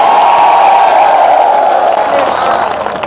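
Crowd at an outdoor political rally in Madhya Pradesh claps and cheers loudly and continuously, a dense roar of voices and applause that holds steady and eases slightly toward the end.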